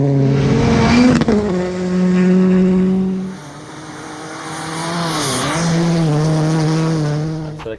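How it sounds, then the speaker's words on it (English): A Hyundai i20N R5 rally car drives at speed during testing, its engine loud and close, climbing through the revs with sharp gear-change dips and shifts in pitch, with no voices over it. "we're out testing the i20N"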